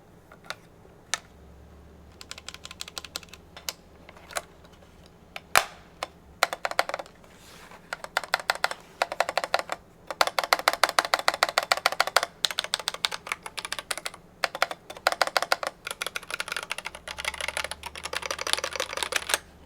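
Clacky keystrokes on an RK Royal Kludge RKS70 split mechanical keyboard, starting in sparse clicks and building into fast, continuous typing bursts, close and fairly quiet, with no voices.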